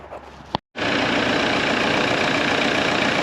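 Toyota Hilux engine catching after a short crank and brief silence, then idling steadily and loudly close by, with no voices.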